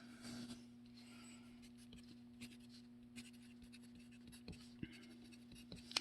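Writing on a board during a physics lesson on average and constant velocity: a quiet, continuous scratchy stroking with a few small taps, fairly close, with a steady low hum underneath and no talking.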